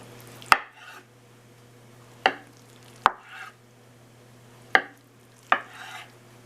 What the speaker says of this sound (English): Then we're going to cut it into 3-inch thick strips.